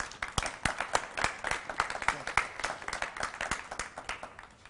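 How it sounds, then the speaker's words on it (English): A small crowd claps steadily for a few seconds at a congressman's introduction, the applause gradually fading toward the end. "Give him a round of applause."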